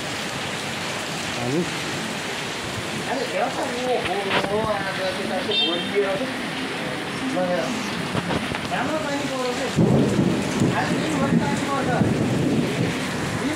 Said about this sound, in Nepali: हेर्नुस् पानी परेको छ